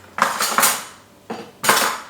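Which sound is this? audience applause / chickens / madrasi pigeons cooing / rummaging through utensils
rummaging through utensils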